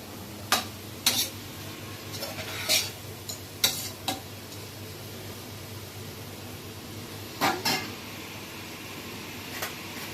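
Onions sautéed in a pan for chicken biryani, with a faint background sizzle broken by sharp, scattered spatula scrapes and taps against the vessel, in short clusters separated by quieter gaps.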